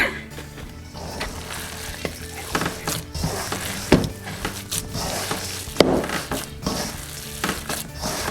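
Venison jerky meat being worked by hand with jerky seasoning and curing salt, giving a close, wet squelching and kneading sound with irregular slaps and thumps and no talk.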